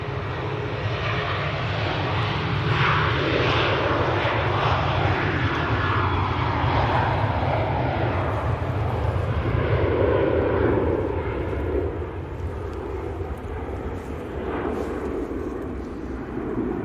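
A TUI airliner bound for Toulouse takes off at Manchester Airport, its broad, steady jet-engine roar holding loud and constant before easing slightly toward the end, with no voices over it.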